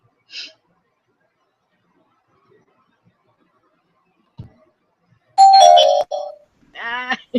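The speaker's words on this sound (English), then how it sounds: "Ding dong." A doorbell rings once with a short ringing chime in an otherwise quiet room, followed by a brief voice.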